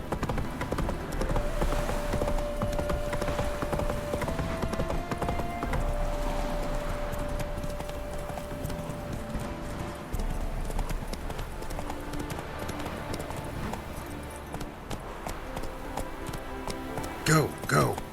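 Horse hooves clip-clop in a steady galloping rhythm in The Witcher 3, loud and continuous over game music and ambience, with a voice speaking briefly near the end.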